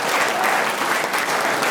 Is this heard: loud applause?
yes